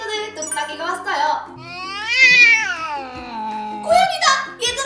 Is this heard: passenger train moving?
no